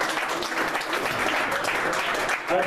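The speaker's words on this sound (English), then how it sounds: "Hey guys, one more round of applause, please." Steady round of audience applause at a founders' spotlight talk event, dense and fairly loud throughout a brief stretch, with no talk over it.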